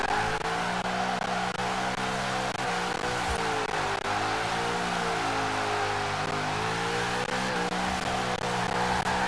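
A car in Forza Horizon 4 holds a long skid while its engine drones and shifts in pitch, making a steady, loud tire-and-motor sound with no talking.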